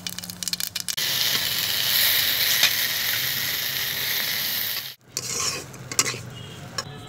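Panch phoron spices hit hot oil in a kadhai while making halwai-style samosas, giving a loud, steady close sizzle. The sizzle breaks off briefly, then returns with metallic stirring clinks and scrapes.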